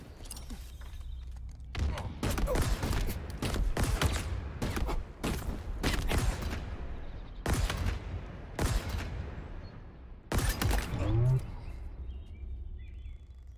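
Bulldog shotgun fire in the game Halo Infinite: several loud, heavy blasts come in clusters with short gaps between them, mixed with other battle noise.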